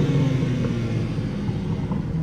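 A 2023 BMW M3 G80 engine rumbles close by in a brief, loud, deep burst with a slight swell, like a short rev.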